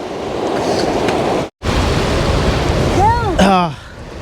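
Continuous wash of surf rolling onto Crosby Beach near Liverpool as the tide comes in, broad and steady, briefly cut out mid-way, with a short burst of voices and sliding tones near the end.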